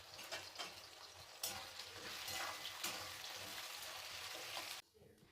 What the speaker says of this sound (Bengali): এবার পেঁয়াজের বেরেস্তাটা তৈরি করে নেব।